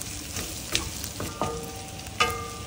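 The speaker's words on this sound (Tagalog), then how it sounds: "Ilagay ang diced Chinese sausage and cook until lightly browned." Diced Chinese sausage fries in an oiled pan with softened onions, a steady close sizzle broken by a few sharper pops and stirring scrapes.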